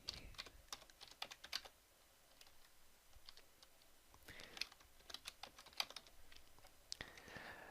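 A password is typed on a computer keyboard, with quiet, close key clicks coming in quick, uneven bursts and short pauses between them.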